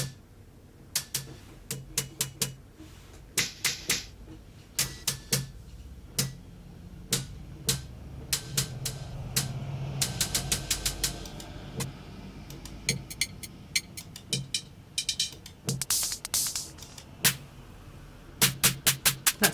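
Synthesized Arturia drum sound resembling a clap, repeated as a sharp, crisp pattern of hits with irregular rhythm and occasional rapid bursts, fairly loud and with no voices.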